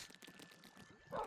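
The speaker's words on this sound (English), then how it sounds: "Prisoner escaped, but I hear a dog, though." A dog in the Minecraft video game lets out a short, close bark near the end, after a brief stretch of soft, clicky game noise.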